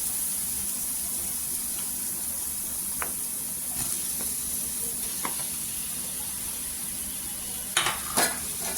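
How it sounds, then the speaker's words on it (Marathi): Boiled potatoes are tossed and stirred into an oil tempering for Mumbai-style vada pav filling, with the gas switched off. A soft, even sizzle continues, with a few faint scrapes and a brief clatter near the end. "आता गॅस बंद करायचा आणि ह्याच्यावर आहे ना बटाटे टाकून घ्यायचे।"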